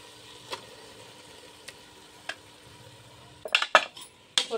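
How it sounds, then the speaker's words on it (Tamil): Half a kilo of mutton curry is stirred in a pot, a few sparse metal clinks at first, then a quick cluster of louder scraping knocks and clatters near the end over a faint sizzle. "போட்டு நல்லா கிண்டி விட்டுக்கிறேன்."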